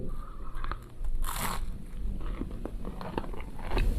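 Crunchy bites into fried Lebanese-style frozen supermarket falafel, with a few close, crisp crunches and chewing sounds and no talking.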